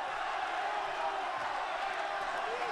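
Fans at a boxing match between Lolenga Mock and Lorenzo di Giacomo, a continuous crowd roar and cheering with an Italian commentator speaking over it.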